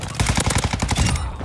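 Rapid automatic gunfire in Call of Duty Modern Warfare II multiplayer, a loud close burst of about a dozen evenly spaced shots that stops abruptly, with no talking over it.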